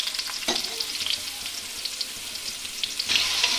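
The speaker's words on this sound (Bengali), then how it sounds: "এটা বানানোর জন্য আমি প্রথমে আলুগুলোকে ভেজে নিচ্ছি।" Potatoes fry in hot oil with turmeric in a home kitchen pan for a mutton curry, a loud, continuous close sizzle with crackling bursts and occasional stirring scrapes.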